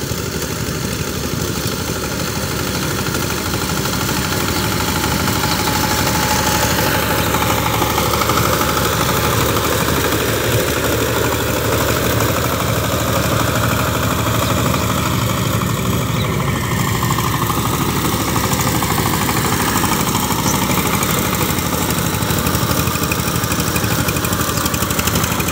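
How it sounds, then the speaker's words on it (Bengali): A power tiller's engine chugs and runs continuously while cultivating muddy paddy land, a loud steady mechanical drone with slight load changes, close by and with no talk. "এই ইঞ্জিনটার সাউন্ড খুবই ভালোই শোনাচ্ছে"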